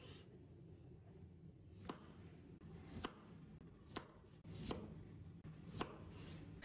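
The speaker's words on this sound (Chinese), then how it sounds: "我们先用刀把头尾切去不要" A knife trims the ends off a fresh white radish for pickling, sounding as a handful of sharp, separate chops on a board against a faint, steady background.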